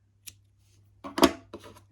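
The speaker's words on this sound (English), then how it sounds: "take your scissors and" A few quick, crisp snips of scissors cutting yarn, one faint then a couple of sharper cuts, close up in a quiet room.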